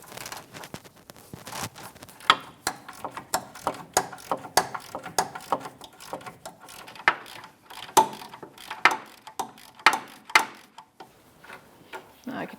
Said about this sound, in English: I've got a 16mm socket on that 3/8 drive, and I'm right on the most forward bolt for that sway bar bushing bracket